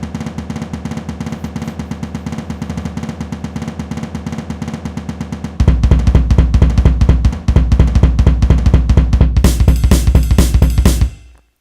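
A fast, steady programmed drum pattern for a rock song, played by the PolyNome metronome app, ticks along, then switches to a louder, heavier beat with cymbals before stopping abruptly.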